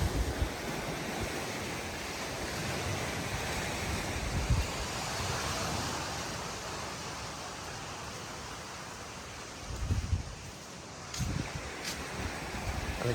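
Ocean waves at Boipeba beach, a broad steady wash of surf with wind buffeting the microphone and a few louder low gusts near the end.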